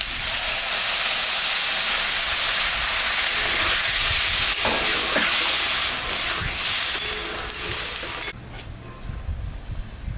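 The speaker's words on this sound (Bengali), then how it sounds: "এখন আমি সামান্য জল দেবো" Water hits a pan of frying spices and potatoes, and a loud, hissing sizzle swells up, then softens before cutting off near the end, with no voices.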